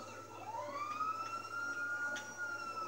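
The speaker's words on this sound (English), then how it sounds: "No, I have my sirens on." A police car siren wails in the Grand Theft Auto V video game, one rising tone that holds steady at moderate distance over a low engine hum.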